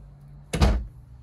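A storage drawer beneath the cooktop in a 2021 Thor Magnitude XG32 4x4 RV slides and shuts with one short, close wooden thud against a quiet room.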